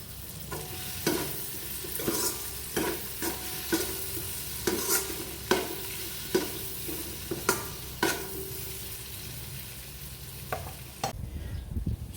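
Oil sizzling in a pan while munggo (mung beans) cooks, a steady frying hiss broken by repeated scraping stirs at an uneven rhythm, close and clear with no talking.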